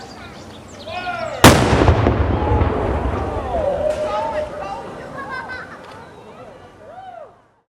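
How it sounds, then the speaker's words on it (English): A Napoleon-type 3-pounder light field artillery cannon fires once at a Civil War 150th anniversary commemoration in Santa Rosa, California, giving a single sharp, loud boom that rolls away into a long, echoing rumble, with a voice heard in the background. "This is a light field artillery piece of the Napoleon type."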